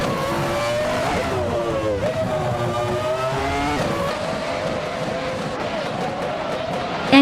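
McLaren MP4-11 Formula One cars race in a video game, their high-pitched engines whining and shifting as they rev and pass close by, with a steady stream of engine tones layered over faint crowd noise.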